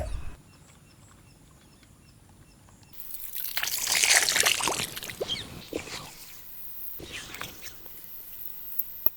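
Water splashes and trickles while a stone grinding mortar is washed, with a louder burst of rinsing in the middle and softer dribbling afterward. No one speaks.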